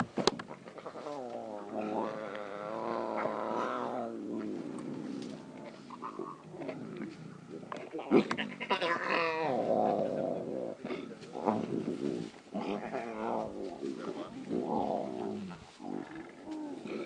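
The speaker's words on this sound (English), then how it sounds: "Listen to that sound. Those are cubs growling." Lion cubs growl and snarl on a kill during a wildlife safari drive, rough rumbling growls rising and falling, fairly faint and distant, mixed with outdoor ambience and occasional talk.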